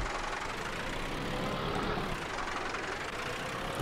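A tractor engine idles in the farming video game Vintage Survival, a steady low mechanical rumble that holds an even level throughout with no talk over it.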